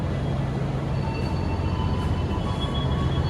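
Inside a New Generation stainless steel executive car on the Parahyangan train: a steady, loud low rumble of the moving train with a faint whine, no voices.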